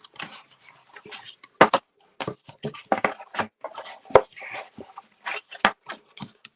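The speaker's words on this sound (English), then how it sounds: "I'm going to fold this again and burnish it again." Kraft paper gift box lid folded and burnished by hand: a string of close, crisp creasing rubs and sharp taps in uneven bursts against a quiet background.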